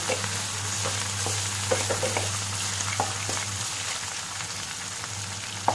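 Chicken pieces frying in a pan for omurice, a steady close sizzle with occasional stirring scrapes and clinks and a low hum underneath.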